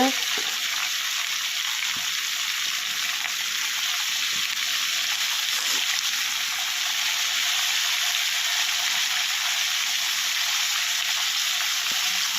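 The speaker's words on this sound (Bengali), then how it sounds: "কফিগুলোকে ভেজে নিই" Cauliflower florets sizzle steadily in a hot pan with turmeric and salt, a continuous loud frying hiss lasting throughout with no voices.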